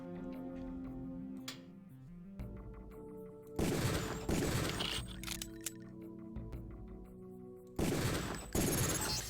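Gunshots in Deus Ex, heard as several loud, sharp reports spaced a few seconds apart, each with a brief ringing tail, over a quiet game music bed.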